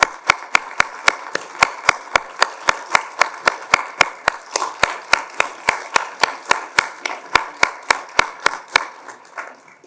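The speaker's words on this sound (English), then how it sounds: "Please give him a round of applause here." Audience at a Veterans Day ceremony claps for a World War II veteran, sharp, evenly spaced handclaps in a steady rhythm over a soft bed of scattered applause that fades toward the end.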